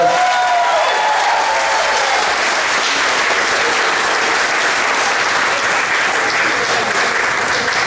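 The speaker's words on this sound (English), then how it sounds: "Give them a round of applause." Sustained applause from an audience at a school moving-up ceremony for the graduating class of 2021, a dense wash of clapping that holds steady throughout.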